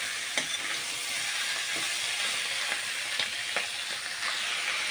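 Goat liver stir-fries in a pan for a mete chorchori, with a steady close sizzle and hiss and a few soft stirring scrapes spaced through it. No one speaks.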